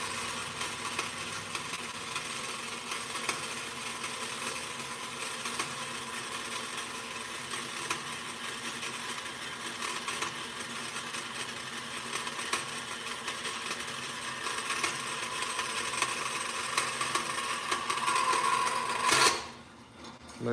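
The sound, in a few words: bandsaw cutting metal links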